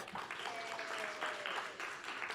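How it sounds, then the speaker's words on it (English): Attendees at a city of Atlanta task force meeting clap together, a moderate, fairly even burst of applause heard from a distance in a meeting room. "give yourself a round of applause"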